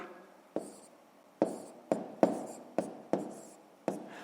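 A pen writes by hand on paper while decimals are added in a column, giving a handful of short, distinct scratching strokes separated by brief pauses in a quiet room.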